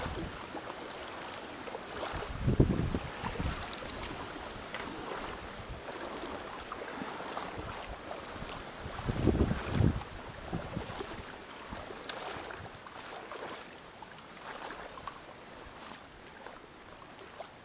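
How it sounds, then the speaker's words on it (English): Wind blowing across a fishing boat on open water: a constant rushing hiss with two stronger low buffeting gusts, along with faint water and boat knocks, no speech. "And the wind, by the way. Ooh. Where did that come from?"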